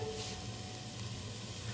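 Chopped onion and medium tomatoes sizzle steadily in a hot pan for a chicken and apple gourd masala, a soft, continuous crackling hiss with faint stirring, fairly quiet and without talk.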